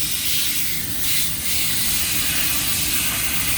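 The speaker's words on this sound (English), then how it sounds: "we are going to rinse and rinse until it comes out clear" Water spray rinsing the coil of a split air conditioner unit, a steady hissing wash held close and continuous throughout, with a brief surge partway through.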